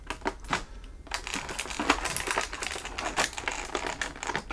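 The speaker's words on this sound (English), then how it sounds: "Tape lately has been like super adhesive to the packaging" Adhesive tape is peeled off the packaging of an action figure, making a string of close crackling, ripping and crinkling sounds in irregular bursts.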